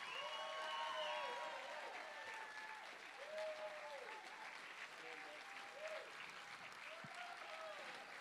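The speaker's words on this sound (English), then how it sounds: "How about a big round of applause for this band?" Audience applause for the band at the close of a tribute show, a broad wash of clapping over 8 seconds with curved tonal sweeps running through it, and faint voices mixed into the crowd.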